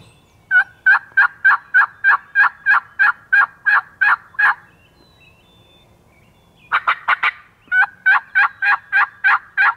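A wild turkey gobbler calls outdoors in fast, evenly spaced strings of sharp notes: one long run, a pause, then a quick flurry and another steady series.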